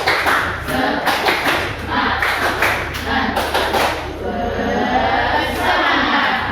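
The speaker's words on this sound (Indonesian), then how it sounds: "Sekarang kita sama-sama tepuk semangat, cek sound dulu." A classroom of pupils performs a rhythmic spirit clap together, several bursts of group clapping in a patterned beat with children's voices and shouts mixed in, fairly loud and close throughout.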